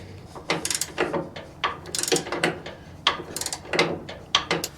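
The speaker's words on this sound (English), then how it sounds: "Those little ratchet wrenches are great in locations like that." Small ratchet wrench turning a 1/2-inch bolt on a Troy-Bilt Pony riding mower, a series of quick close clicking ratchet bursts in uneven strokes, loud and alone with no talking.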